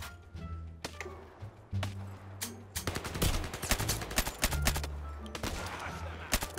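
Rapid gunfire in the VR shooter Zero Caliber VR, with sharp cracks arriving in quick bursts and single shots close by, mixed with brief low game tones and occasional voices in the background.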